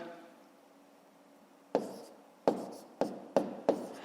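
Pen or chalk strokes writing the number 27.2 during a fifth-grade arithmetic exercise: five sharp, close taps in quick succession after a quiet pause, with no talk over them.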